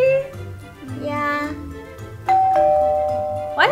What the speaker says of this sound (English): Why did the doorbell just ring?